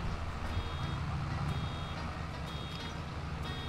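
A vehicle's reversing alarm in Farming Simulator 22 sounds as steady, evenly spaced electronic beeps over a continuous low engine rumble, loud and close throughout, with no talking.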